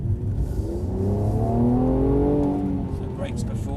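A Mercedes-Benz on a race track accelerates hard, its engine note rising steadily under power and then easing off near the end, while someone talks over it.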